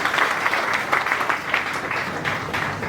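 An audience at a scholarship programme event applauds, a dense and steady clatter of many hands clapping at moderate volume throughout, with no voices over it.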